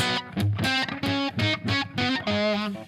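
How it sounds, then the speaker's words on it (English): An electric guitar with a P90 pickup runs through an echo effect with no other pedals, sounding as a series of distinct ringing notes and chords with short gaps and a bit of room echo between phrases. "I don't have any pedals on except for the echo."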